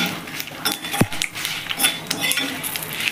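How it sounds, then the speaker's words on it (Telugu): A spoon scrapes and clinks against a pan while turmeric is stirred into a hot tempering for nuvvula pachi pulusu, a few close metallic taps over a faint background sizzle. "ఈ పసుపు కూడా మంచిగా కలుసుకోవాలి."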